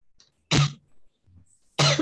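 Two sharp coughs about a second apart during a class, close and loud, with a faint throat sound between them.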